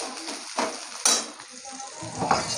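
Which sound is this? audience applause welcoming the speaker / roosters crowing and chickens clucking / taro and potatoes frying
taro and potatoes frying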